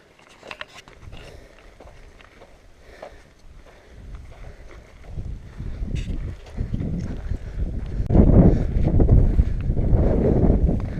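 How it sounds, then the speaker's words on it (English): Wind blowing hard across a mountain trail on the Pacific Crest Trail under overcast skies, a low buffeting rumble on the microphone that starts moderate and builds into strong, sustained gusts toward the end. "And the wind is blowing pretty good."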